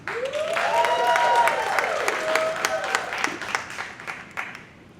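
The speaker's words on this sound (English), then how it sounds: "Clap it up for Bobby." A comedy club crowd at the Miami Improv applauds a comedian, steady clapping and cheering under a host's amplified voice, thinning out toward the end.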